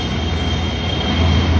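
A metro train runs with a steady, loud low rumble of wheels on rail and faint squeal, with no talking.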